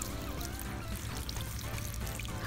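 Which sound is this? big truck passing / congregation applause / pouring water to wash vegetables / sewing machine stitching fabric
pouring water to wash vegetables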